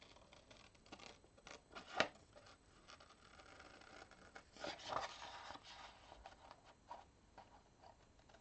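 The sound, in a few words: cutting out a paper Saturn shape with scissors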